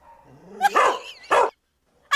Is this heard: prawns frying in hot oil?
no